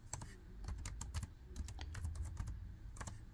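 Typing a username on an ASUS X554L laptop keyboard, a rapid close run of light plastic key clicks at an uneven rhythm with no talk.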